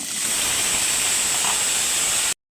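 Potato pieces sizzle in hot oil seasoned with panch phoron and a dried red chilli, a steady close hiss that holds evenly and then cuts off abruptly.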